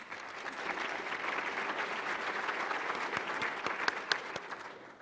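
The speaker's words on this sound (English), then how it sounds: "Let's give them another round of applause." Steady applause from a large audience at a National Academy of Medicine annual meeting, a soft, even roar of many hands heard from a distance, with a few sharper claps standing out near the end.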